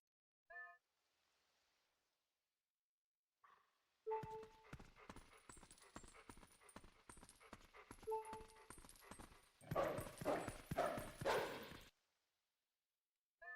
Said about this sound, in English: the goats going into the pen.